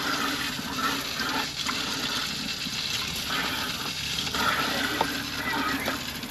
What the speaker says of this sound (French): Ici un petit robinet qui est pratique pour remplir une bouteille d'eau